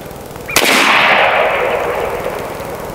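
An air shotgun firing a shell, one sharp, loud crack up close followed by a long hissing rush of released air that slowly fades, with no one talking.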